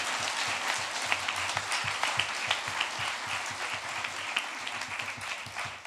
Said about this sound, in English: Can we all have a round of applause for Mr. Cook?